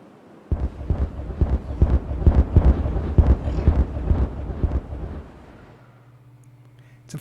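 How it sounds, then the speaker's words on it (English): Explosions in the video game Timberborn, a rapid series of deep, booming blasts rumbling close together for about five seconds, then fading to a low steady hum. "It's a very good job those explosions are so contained, isn't it?"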